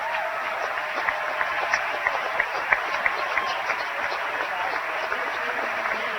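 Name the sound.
standing ovation applause at basketball game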